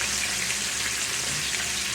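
Southern fried chicken frying in hot grease, a steady close sizzle and crackle of oil that runs evenly throughout with no speech.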